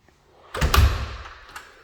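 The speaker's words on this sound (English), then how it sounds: "Solid iron double doors right here, baby." Solid iron double doors at the front of a new-build home in Dripping Springs, Texas, swing with a heavy metallic thunk that rings and decays, then a lighter click a moment later.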